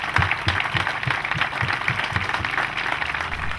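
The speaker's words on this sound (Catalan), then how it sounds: "Aquest aplaudiment que li dediquem." Applause at a Catalan rally-event tribute: a crowd of hands claps continuously, with a faintly rhythmic thud pulsing underneath, fairly loud and close, with no speech over it.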